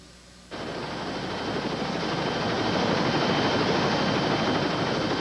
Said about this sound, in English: we made a decision to have the Coast Guard chopper land and fly the boy out